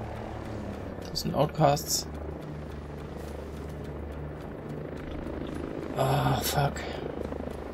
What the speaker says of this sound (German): Feindlicher Heli, unten bleiben.